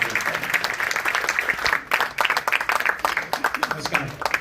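An audience applauds at a Hindi song launch, with dense, lively clapping that runs steadily throughout, close and loud, with a few voices mixed in.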